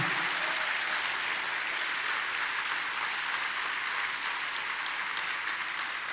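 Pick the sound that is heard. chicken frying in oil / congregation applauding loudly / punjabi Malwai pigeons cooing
congregation applauding loudly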